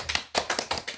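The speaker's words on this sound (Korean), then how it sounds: "박수로 환영드리겠습니다." A church congregation at a Sunday service claps to welcome new members, loud, close, rhythmic bursts of clapping repeating several times within a second.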